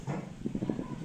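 A dog whimpers and gives a few short yips and barks close by, a quick burst of soft high-pitched cries.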